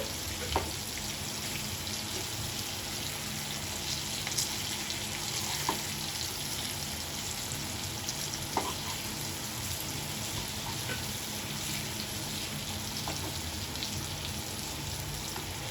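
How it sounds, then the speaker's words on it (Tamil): Fish coated in masala sizzles and fries steadily on a hot tawa, a soft continuous crackle with occasional small pops, heard alone with no talking. "பாருங்க, மசாலா நல்லா உதிராம சூப்பராக மீன் வந்து ஃப்ரை ஆயிடுச்சு ஒரு சைடு"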